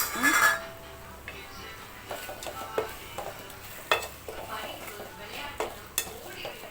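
Okra sautéing in a pan, with a soft sizzle under repeated scraping and stirring clinks of a spatula against metal.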